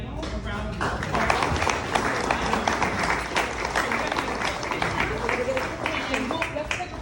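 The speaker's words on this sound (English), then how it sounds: "let's give our first panel a round of applause." Conference audience applauding a just-finished panel on the office property market, a crisp, busy spread of clapping with some voices and movement mixed in, continuing steadily throughout.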